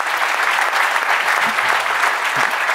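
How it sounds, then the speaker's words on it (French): A crowd at a student ecology conference claps in loud, continuous applause, a thick, even roar of hands from start to finish. "je crois qu'on peut encore les applaudir."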